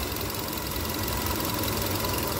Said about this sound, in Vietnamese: Máy nổ thì cực kỳ êm, nghe rất là thì thầm luôn mọi người nhá